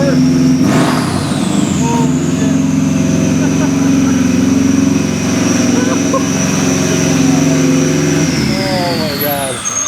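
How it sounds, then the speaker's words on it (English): A Subaru GC8 with an I-Wire chassis harness starts and idles steadily, a loud close mechanical drone with a rising whine at start-up, running continuously throughout. "It's been 2 years since I've heard an engine running in this car."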